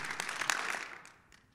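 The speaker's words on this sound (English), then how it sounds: "Clap 3 times." An audience at a keynote talk claps three times in unison, short sharp group claps close together, followed by a couple of faint scattered claps as the sound fades.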